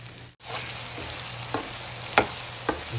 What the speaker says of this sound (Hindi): तो हम इसको खूब अच्छी तरह इधर इसकी भुनाई करेंगे